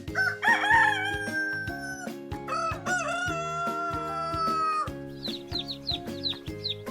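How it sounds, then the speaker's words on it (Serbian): A rooster crows loudly and up close in long drawn-out calls, one after another, with music playing underneath and no speech. "Petao rano ujutru kukuriče."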